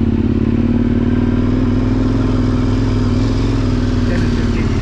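KTM 1090 motorcycle riding offroad, a steady loud engine drone with a low rumble held throughout, close to the microphone, with rattling and clatter over rough ground and wind buffeting.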